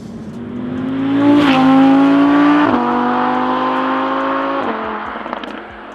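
An Audi R8 V10 plus with its 5.2 litre V10 and Quattro drive revs hard, the loud engine note climbing steadily through several gear changes with brief dips between pulls, up close and without speech.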